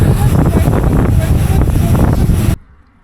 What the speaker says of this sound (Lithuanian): kol kas tai labai šaltas vėjas